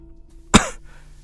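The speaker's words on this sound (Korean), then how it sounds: "헛기침을 하고 다시 문장을 이어갔다" A man reading a novel aloud clears his throat once, a single short, close, rough burst that decays quickly into quiet.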